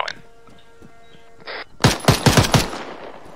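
Rapid bursts of automatic gunfire in the military shooter Arma 3, a loud cluster of close shots starting after a quieter stretch of ambient game sound and a brief voice.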